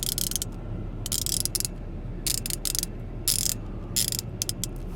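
A Harbor Freight 3/8-inch flex-head ratchet with 72 teeth clicks in short bursts of rapid fine ratcheting, repeated several times at close range over a low steady background hum.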